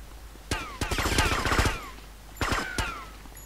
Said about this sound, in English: You're missing, but you are shooting.